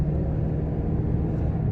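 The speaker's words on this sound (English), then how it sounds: "it picks right up when you're on the gas and it just gives you a smoother acceleration" A Toyota Tundra fitted with a Sprint Booster accelerates, heard from inside as a steady, heavy low engine and road rumble with no voices.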